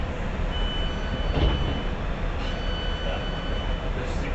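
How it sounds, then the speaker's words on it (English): A Great Western Railway shuttle train to Greenford rumbles along steadily with a dense, continuous rolling roar from inside the carriage, with a few brief clanks over the running noise. "This is a Great Western Railway service to Greenford."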